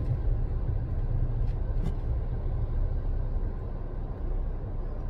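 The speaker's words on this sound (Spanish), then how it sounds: "Y el tráfico un poquito pesado en esta área." A steady low rumble of heavy road traffic in Puerto Rico, vehicles droning past continuously at a moderate distance.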